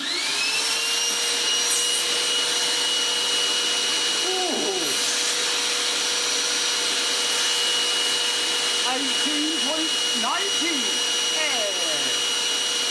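A vacuum cleaner fitted with a 1,000 watt replacement motor runs continuously with a loud, steady whine and rushing airflow, while faint squeaky warbling tones come and go over the drone.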